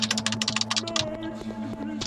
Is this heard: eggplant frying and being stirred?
no